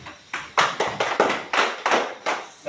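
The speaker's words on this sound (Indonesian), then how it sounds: "sekarang saya minta tepuk semangat" A school class performs a rhythmic clapping routine together, a patterned series of sharp, loud group claps in distinct bursts of varying spacing, close and without speech.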